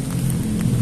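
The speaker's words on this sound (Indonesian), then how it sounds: "ini hujan" Rain falls steadily, a dense, even hiss of drops close by with a low rumbling undertone, continuous and fairly loud.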